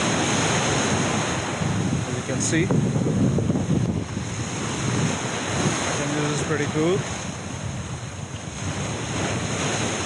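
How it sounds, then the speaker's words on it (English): Ocean waves break and wash steadily at the edge of an island in Siargao, with heavy wind buffeting the microphone throughout and someone talking briefly over the surf. "There are waves approaching in opposing direction, and we cancel each other out."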